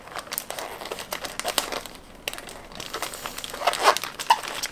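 Thin plastic poly mailer bag crinkles and rustles close up as an item is packed into it for shipping, in irregular bursts of crackling with brief pauses, no talking.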